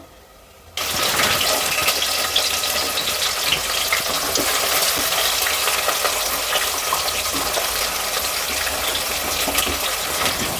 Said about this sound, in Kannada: ಇವಾಗ ಇದನ್ನು ಸ್ವಲ್ಪ ಕಲರ್ ಚೇಂಜ್ ಆಗೋವರೆಗೂ 1-2 ನಿಮಿಷ ಫ್ರೈ ಮಾಡ್ಕೊಳ್ಳೋಣ.